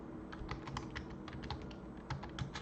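Keys on a computer keyboard are tapped in a quick, uneven run of soft clicks, moderately close, over a steady background hiss with no talk.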